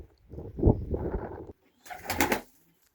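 Pigeons in a pigeon loft give low, throaty coos close by, followed after a short gap by a brief burst that sounds like flapping wings.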